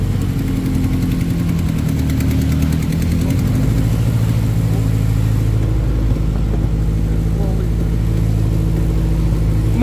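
A 1994 Honda Integra engine rumbling loudly close up as gas is given, a steady low drone that rises slightly in pitch partway through.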